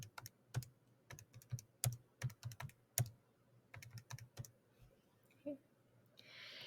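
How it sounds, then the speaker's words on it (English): Someone taps out numbers on a calculator keypad, producing a run of quick, crisp plastic clicks in an uneven rhythm, close and fairly quiet, with a soft rustle near the end. "I'm going to go over and type in my y values."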